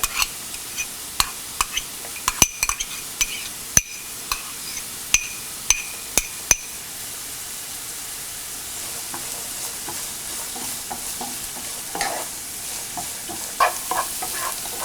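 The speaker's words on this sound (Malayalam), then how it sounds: "നമ്മൾ കട്ട് ചെയ്ത് വെച്ചിരിക്കുന്ന ബീൻസ്, ക്യാരറ്റ് എന്നിവയിട്ട് നന്നായിട്ട് വഴറ്റുക." Chopped beans and carrots sauté in a pan while a spoon scrapes and taps the metal in quick irregular strikes, heavier early on and thinning out later, over a steady soft sizzle with no talking.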